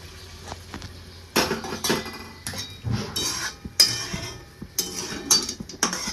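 Roasted poha powder being stirred with poured sugar syrup for poha barfi, a spoon scraping and clinking against the pan in irregular bursts, close and moderately loud, with no talk.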